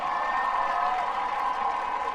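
Steady applause from a large audience at a school band concert honoring the Fine Arts Director, a dense even wash of clapping held at constant loudness throughout.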